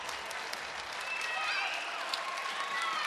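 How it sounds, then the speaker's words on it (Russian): Spectators clap for a Greco-Roman wrestler at a 60 kg tournament bout, sustained crowd applause under an announcer's voice, with faint whistles and scattered sharp claps. "Аплодисменты Фидахметову."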